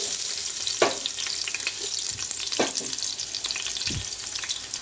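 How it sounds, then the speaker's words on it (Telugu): Onions fry in hot ghee and oil, giving a constant close sizzle with a few louder scraping stirs across a few seconds. "నెయ్యి ఆయిల్ వేగిపోయింది ఉల్లిగడ్డ వేయించుకుంటాం"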